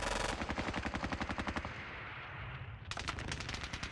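Gunfire from the Squad Battles Red Victory video game: a rapid, loud machine-gun burst, a short pause with a lingering rumble, then another rattling burst.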